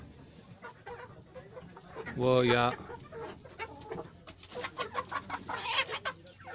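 Giriraja breed chickens on a poultry farm cluck in repeated short calls, with one loud drawn-out squawk rising above them, close by, while a person speaks briefly.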